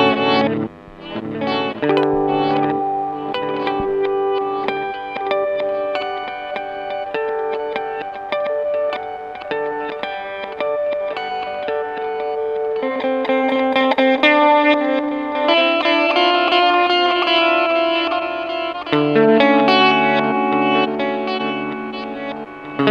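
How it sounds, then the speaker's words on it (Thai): Guitar played through the reverse delay mode of an 8Note Chrono Tap pedal, with swelling backward echoes trailing plucked notes and chords, dense and continuous, with no talking. "โหมดสุดท้ายที่เขาให้มานะครับก็เป็นรีเวิร์สนะครับผมก็คือเป็นเสียงตีกลับนะครับผม"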